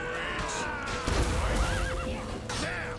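Horse whinnying loudly in The Witcher 3 on PS5, a wavering neigh rising and falling over dense game sound with a thud and crash midway.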